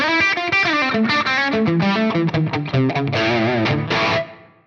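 A distorted electric guitar on its bridge pickup, through an EV Panama Blue amp model on a Line 6 Helix, plays a fast run of bright, biting notes, ending on a sustained chord that cuts off abruptly.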